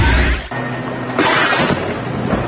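A burst of explosion and gunfire during a military all-out offensive against Maute fighters in Marawi City, with a heavy low boom at the start followed by rumbling blasts and sharp cracks over a continuous dull roar.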